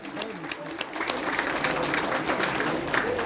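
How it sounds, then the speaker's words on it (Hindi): Applause from the crowd at an award ceremony honouring acid attack survivors, a dense, even wash of many hands clapping that holds steady throughout. "तालियां बजाइए प्लीज, बहुत जोर की तालियां चाहिए।"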